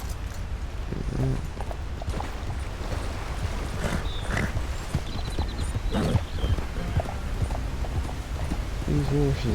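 Horse hooves clip-clop in a steady rhythm in Red Dead Redemption 2, moderately close, with occasional other game sounds around them.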